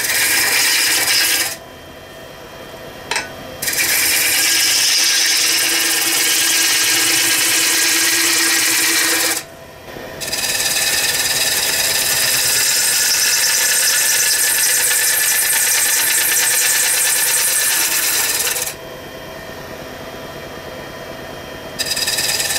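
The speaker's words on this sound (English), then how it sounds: "We're getting larger shavings and taking a more aggressive cut." Large beech salad bowl being turned on a VB36 woodturning lathe with an aggressive cut throwing big shavings, a harsh continuous scraping hiss broken by several short pauses, loud and close.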